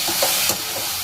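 Vegetables for veg manchurian sizzle steadily in a pan with turmeric and sauce, a loud, close, continuous frying hiss broken by a few faint stirring clicks.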